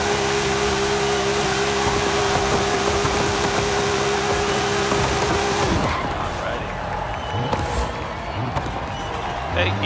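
Simulated Honda S2000 with an anti-lag drag tune in Forza Horizon 5, its tires squealing and engine roaring loudly and steadily while the tires are heated, then cutting down to quieter engine noise partway through.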